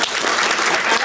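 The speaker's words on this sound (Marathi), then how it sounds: "जरा सर्वजण टाळ्या वाजवा." Applause from an audience at a Marathi talk gathering, a brief dense round of clapping heard close and even throughout.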